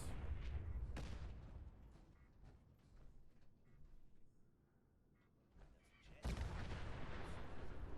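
Booming gun turret fire in Fallout 4: a sharp blast early, quieter stretches of rumble, then a loud sustained barrage of heavy shots near the end.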